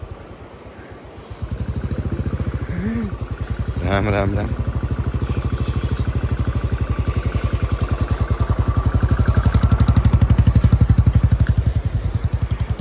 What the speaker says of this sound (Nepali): ए बुलेट यत्रो भारी बाइक लिएर आयो।